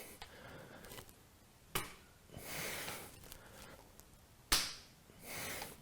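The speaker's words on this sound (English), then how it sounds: "So clap your feet 3 times" Bare feet clap together twice during light yoga hops, each a sharp, close slap, followed by a soft thud of landing and then quiet breathing.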